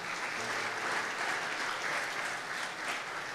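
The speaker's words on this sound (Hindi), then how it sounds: "जोरदार तालियां उनके लिए बजाइए।" Steady, full applause from a church congregation, a dense wash of many hands clapping at an even level for a few seconds.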